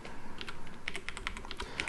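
Quick bursts of computer-keyboard typing while entering a Java command, a steady run of close, crisp key clicks with a few sharper strikes, no voices.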